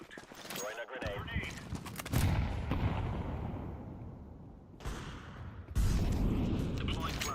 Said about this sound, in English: Grenade out. Throwing a grenade.